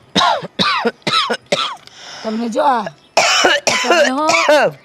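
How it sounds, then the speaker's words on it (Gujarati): A person coughs and clears their throat in a Gujarati family comedy scene. The short, rough bursts are mixed in with close conversational talk from several people. "વિસારી વિસારીને ખાંસી થાય છે"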